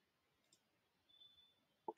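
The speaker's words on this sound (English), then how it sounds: "Now click on more" A single computer mouse click in PCB design software, a sharp close tick near the end after near silence and a faint hum.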